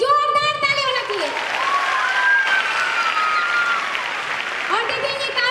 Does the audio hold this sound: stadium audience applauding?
yes